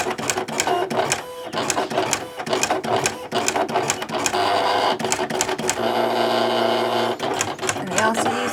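Silhouette Cameo cutting machine working on a bunny petal box, with loud whirring motor and rapid rhythmic clicking and ticking from the carriage as it moves, running steadily throughout at close range.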